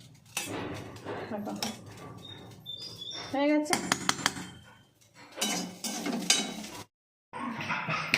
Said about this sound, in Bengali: এবার ঢেলে নিই থালার মধ্যে